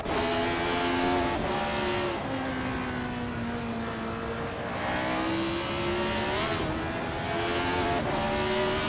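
Race cars roar loudly through a race, engines revving and shifting pitch as they accelerate and pass, with a continuous dense wall of motor noise throughout.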